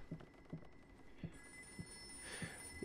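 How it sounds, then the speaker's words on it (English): An old haunted telephone rings in the horror game Layers of Fear, its bell sounding in a steady repeating pattern of short rings, moderately loud over a low eerie ambience with no talking. "Oh, it's an evil haunted phone, I guess."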